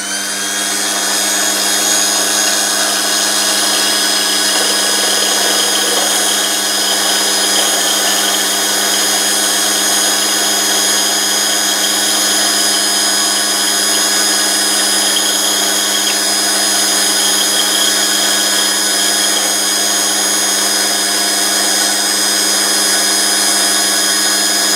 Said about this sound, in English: pop it into the lathe. I'm using a Unimat 4, which is nice and true, and then face off the front of the axle.